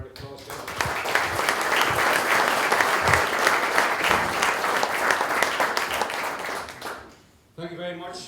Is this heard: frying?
no